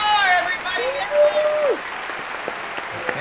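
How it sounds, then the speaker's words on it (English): Audience applause at an election night comedy show at the Mango Hookah Bar in Dearborn, Michigan, a thick wash of clapping under a loud sustained whoop and cheering voices, fading slightly toward the end. "Please, a big round of applause for Amer Zahr,"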